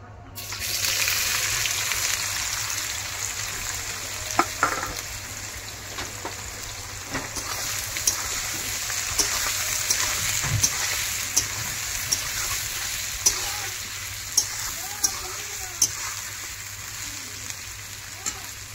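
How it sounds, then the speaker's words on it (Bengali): Spiced, marinated meat sautés in a pan with a continuous hiss and sizzle. Scattered sharp clicks of stirring and scraping sound throughout, with a voice faintly present in the background. "এবারে মাংসটাকে আমি একটু কষিয়ে নেব"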